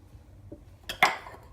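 Dried yeast going into a mixer bowl, heard as a soft tap followed by a couple of sharp close clinks of utensil against the bowl, brief and isolated in a quiet kitchen.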